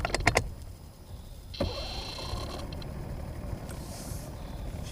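A small engine on a fishing boat cranks briefly and catches, then settles into a quiet, steady idle heard close by, with no talking.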